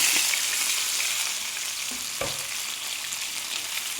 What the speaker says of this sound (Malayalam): ഇതൊന്ന് വാട്ടിയെടുക്കാം